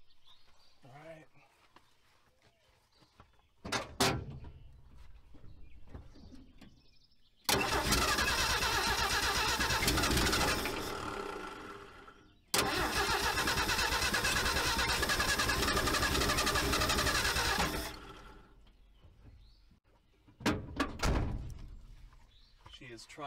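A 1979 Ford F100 pickup with a 300 inline six cranks hard in two long, loud bursts of roughly five seconds each, with brief knocks before and after, without firing into a steady idle; quiet pauses separate the attempts.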